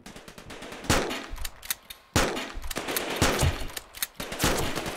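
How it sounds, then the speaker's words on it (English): Shotgun blasts in the voxel shooter OpenSpades, four sharp, loud reports spaced about a second apart, each trailed by a rattling decay and lighter clatter between shots. "Man, this shotgun's got range."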